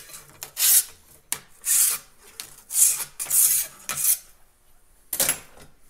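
Metal file rasping burrs off a worn chainsaw bar in a series of close, harsh strokes, each a second or less long, with short pauses between them.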